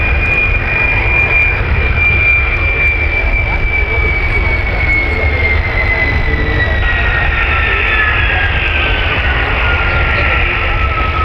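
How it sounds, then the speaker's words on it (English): A de Havilland Vampire jet lands and taxis along the runway at the 2006 Leuchars Airshow, its engine whine sliding steadily downward in pitch over a loud, constant rumble. "as the Vampire lands and taxis down the runway"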